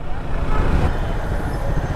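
Jammed road traffic gives off a dense, continuous rumble of idling and creeping engines, steady and fairly loud with no single vehicle standing out.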